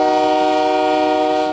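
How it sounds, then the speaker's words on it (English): A long freight train hauling Bakken crude oil through Albany, New York sounds its horn in one sustained, very loud blast that fades slightly at the end. "Every day, mile-long trains from the Bakken oil fields of North Dakota pass through Albany, New York."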